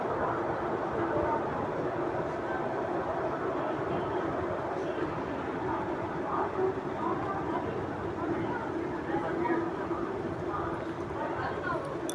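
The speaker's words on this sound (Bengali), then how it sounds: "এটা হচ্ছে ব্যান্ডেল জংশন।" A train rumbles steadily at Bandel Junction railway station, heard from an overbridge as a continuous low clatter and rolling drone with faint station murmur mixed in.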